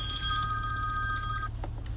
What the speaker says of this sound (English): this dude got the old school ringer on